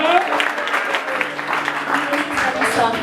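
Steady applause from young children in a church teaching session fills the moment, dense nearby claps mixed with talking voices from start to finish.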